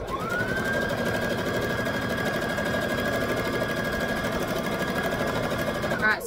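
A sewing machine runs steadily while stitching the seam of a wrap skirt, its motor whirring in a fast, even hum with a thin high whine that holds throughout, close and continuous.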